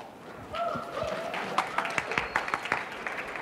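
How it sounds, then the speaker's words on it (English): Guests at a wedding reception break into a round of applause: scattered claps build into a lively, uneven patter with a voice speaking underneath. "One more round of applause for the brothers."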